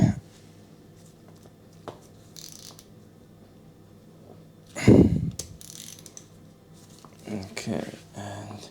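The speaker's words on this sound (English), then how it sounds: "Let's turn these ones around and remove the old bleeding screws." Socket ratchet with a 9mm socket undoing the bleed screws on a BMW E85/E86/E46 brake caliper during a rebuild, giving sparse metallic clicks and one louder clunk in a quiet workshop.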